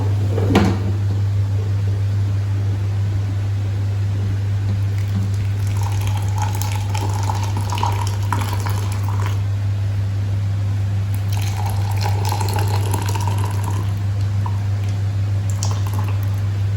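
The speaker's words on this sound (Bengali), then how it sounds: "চাটা এবার ঢেলে নেব।" Freshly made tea is poured from a pot in a home kitchen, heard as two gentle liquid trickles over a constant low electrical hum, with a faint clunk near the start.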